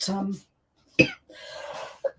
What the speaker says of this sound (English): I do apologise about coughing.